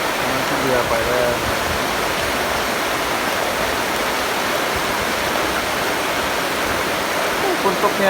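Steady rain falls in a continuous, dense hiss that holds at an even level throughout, with no gaps or distinct drops, and faint voices may sit underneath.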